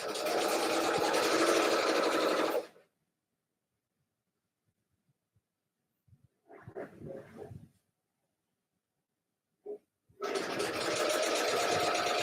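A sewing machine stitches quilt pieces together in two loud, steady runs of about two and a half seconds each, with a quiet gap between them that holds a few soft handling noises.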